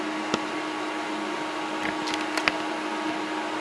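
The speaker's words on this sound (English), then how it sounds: "I did find a 3D version of a coupler as a temporary fix, which I'm printing right now on the FlashForge Finder" A FlashForge Finder 3D printer runs while printing a coupler, producing a steady mechanical hum and whir with a few brief clicks and ticks from the moving parts, heard up close with no talking.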